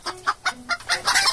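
A rooster sound effect: a run of about seven short, rhythmic clucks in quick succession, close and fairly loud, with no talking over them.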